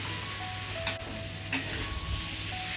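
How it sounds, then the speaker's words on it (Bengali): Potatoes fry with cumin powder in a pan, a dense close sizzle with two brief stirring scrapes cutting through the steady hiss. "দিয়ে এটাকে এবার ভাজবো ভালো করে।"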